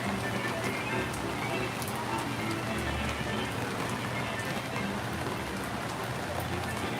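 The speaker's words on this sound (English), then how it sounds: "You can see it's raining a good amount here" Steady rain pours down at the Kings Dominion amusement park in a continuous broadband hiss, with scattered drops pattering on nearby surfaces throughout.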